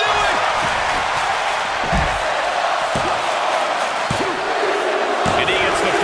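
A wrestling arena crowd in the WWE 2K24 video game roars continuously and loudly, a dense wash of cheering with occasional thuds and slams cutting through.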